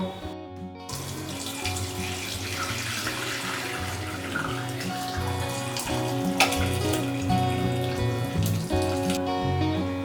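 Whey water pours and trickles steadily as curdled milk chhana is strained for homemade rasmalai, a continuous close splashing flow under faint kitchen clatter.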